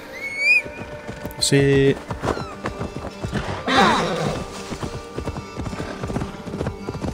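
Hooves clop in a steady rhythm while a horse whinnies briefly in Assassin's Creed Valhalla, with a short spoken word and scattered game sound effects.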